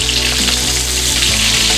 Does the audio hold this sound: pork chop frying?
yes